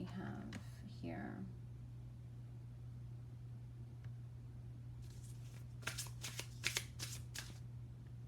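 Tarot cards shuffled by hand in a quiet room, a soft riffle early on, then a burst of crisp card slaps and flicks near the end, faint and close against a steady low hum.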